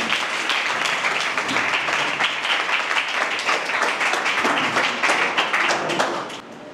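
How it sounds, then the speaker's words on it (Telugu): A church congregation claps together to welcome a speaker, a sustained, even wash of many hands that runs strong before easing off at the very end. "మల్లికార్జునరావుని సంఘమంతా చప్పట్లు కొడుతూ ఆయన ఆహ్వానించాలని"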